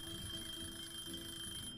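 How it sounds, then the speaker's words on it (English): A cooking timer alarm rings in the Cooking Simulator video game, a steady electronic beeping tone that holds at a fairly even level for the full stretch with no talk over it. "This timer freaks me."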